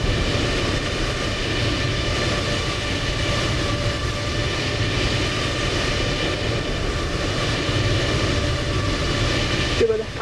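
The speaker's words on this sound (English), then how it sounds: "Whoa, this is a long departure. Beautiful takeoff." A jet airliner takes off from Toulouse in Microsoft Flight Simulator 2020. Its engines give a steady, loud roar with a droning whine that holds for the whole stretch.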